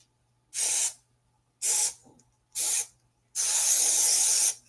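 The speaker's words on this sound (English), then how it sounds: "what I'm going to do is I'm going to spray" Four sharp hissing bursts from a spray bottle onto the backing of a tufted rug, three short pumps then one longer continuous spray, close and fairly loud with silence between.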